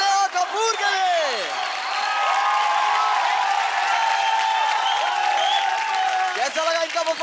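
A large studio audience on a televised dance competition stage gives sustained applause and cheers after a dance performance, with whoops riding over dense clapping throughout and a bright vocal tone rising and falling over the crowd.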